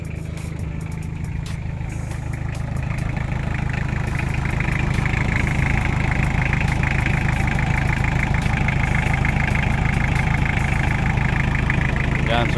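A Toyota 2C diesel engine idles steadily close by, a low continuous rumble that grows slightly louder partway through, with people talking over it.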